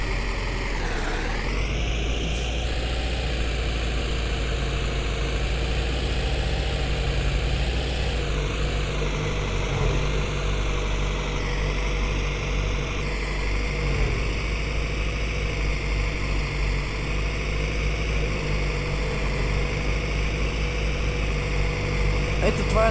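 A Lada Zhiguli with an engine topping out around 90 km/h drones steadily while driving, a constant loud low hum with road and wind noise throughout, with faint shifts in pitch as it goes.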